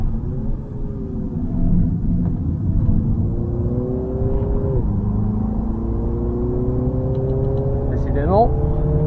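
A Mini drives hard around the Zolder race circuit on road tyres, its engine a loud steady drone with rising and dropping revs through the bends, heard from inside the car under a person talking.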